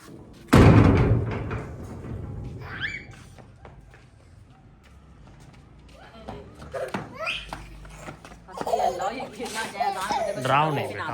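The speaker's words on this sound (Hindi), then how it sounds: "दरवाजा बंद कर दें।" A door slams shut in a village mud house, one sharp bang near the start, followed by a family talking and a voice over quiet room sounds.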